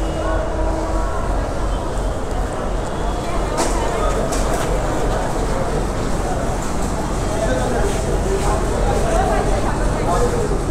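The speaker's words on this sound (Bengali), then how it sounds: "এই যে একটা ট্রেন আসছে" A train pulls into Rajshahi railway station with a steady, loud rolling rumble and scattered metallic clanks, while voices on the busy platform murmur underneath throughout.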